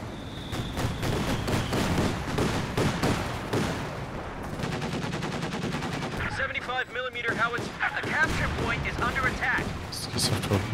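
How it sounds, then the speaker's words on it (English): Cannon and machine-gun fire from the Company of Heroes 2 strategy game ring out in rapid bursts and heavy booms over several seconds, with rattling volleys in the later part and a voice talking underneath. "Seems like the cannon's slightly out of range there. Only the machine gun was firing."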